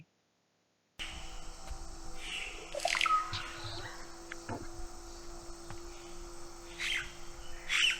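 Bird calls from a species recorded in the Amazon region, heard as a few short chirps and tweets around the third and eighth seconds over steady insect-like droning and a constant hum, fairly faint and distant.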